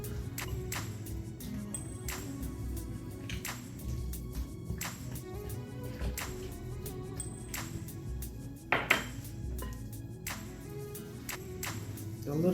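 Creamy cucumber salad dressing with lemon juice, salt and pepper being mixed in a bowl: soft utensil scraping with repeated light clinks against the bowl, close and quiet.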